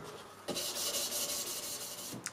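A hand rubs a knife blade with fine 1200-grit abrasive during cleanup after heat treatment, giving a close, steady rasping scrape that runs almost unbroken for about two seconds, ending in a short scuff.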